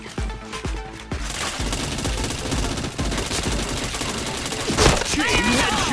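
Dense, sustained gunfire from a shooting video game, with rapid bursts and sharp shots layered over a busy game soundtrack and a voice speaking now and then.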